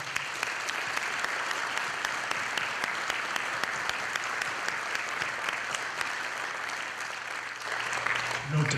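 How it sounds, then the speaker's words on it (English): A large audience at a Veterans Day ceremony in Lynn applauds Colonel Fine with a full, even roar of clapping that holds steady throughout. "One more time, round of applause for Colonel Fine."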